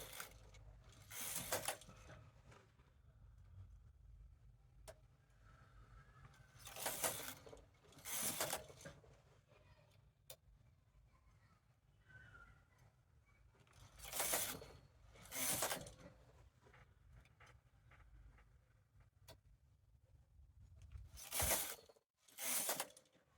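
Domestic knitting machine knitting two rows, its carriage sliding across the needle bed in several separate bursts of rattling, clacking mechanical noise with quiet gaps between passes, fairly faint and without talk.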